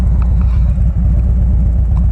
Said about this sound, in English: Gotta wait for these vehicles to get by here.